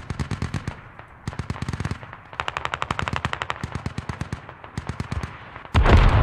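Rapid bursts of heavy gunfire crackle through a Squad match, with dense machine-gun-like volleys repeating in clusters, close and loud, ending in a sudden wide roar as an artillery strike lands.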